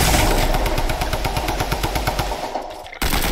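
Rapid submachine-gun fire from a video game rattles in a dense continuous burst for over two seconds, then cuts off and resumes briefly.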